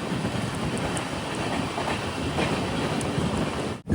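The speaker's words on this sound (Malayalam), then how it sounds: "ട്രെയിൻ ഇപ്പോൾ ഗോകർണ റോഡ് സ്റ്റേഷനിലെത്തി." Matsyagandha Express passenger train running on the Kerala to Goa line near Gokarna Road, a steady, loud rumble with rhythmic clickety-clack of wheels on rail joints, briefly dipping near the end.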